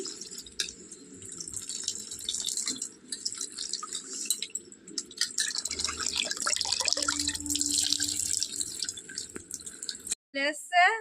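Small fish being washed under a running tap, water splashing and dripping into a sink at close range, with short pauses and a burst of clattering near the end.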